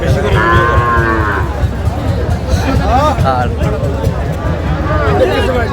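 Young bulls moo repeatedly at a Bangladeshi cattle market, their drawn-out calls rising near and loud over a steady crowd babble and people talking nearby.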